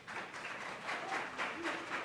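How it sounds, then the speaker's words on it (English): Steady applause fills a school board meeting room, a dense wash of many hands clapping at a moderate distance with gentle swells, continuing throughout without a break. "if you all would please stop the applause so that the speakers can hear when I'm calling them"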